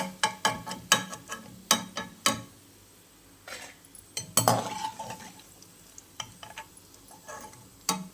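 Crispy corn is stirred in a hot pan after the flame is switched off, giving a run of sharp, separate clicks and scrapes of a spoon against the pan with a faint sizzle between them and no talk.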